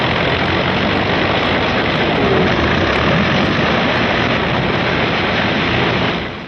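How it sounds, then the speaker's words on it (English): P-51 fighter planes warm up on the line before a long-range mission. Their engines make a loud, steady, dense drone that holds for several seconds, then tapers slightly at the end. "Out on the line, General Moore's P-51s are warming up for the longest fighter flight on record."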